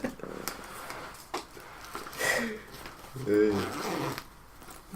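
A clothing zipper on a bag pocket is pulled open in a couple of short rasping strokes, close and fairly quiet, with faint talk and rustling around it.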